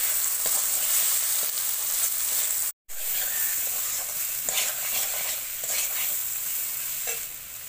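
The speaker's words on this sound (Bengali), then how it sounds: "দিয়ে আমি 5 মিনিটের মতন কষিয়ে নেবো" Potatoes with turmeric and salt sauté in a pan, giving a loud constant close sizzle with occasional stirring scrapes and a brief break partway through.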